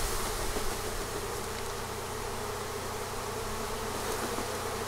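A dense, steady buzz of many honey bees being dumped into a Better Comb hive, loud and continuous throughout with no voices.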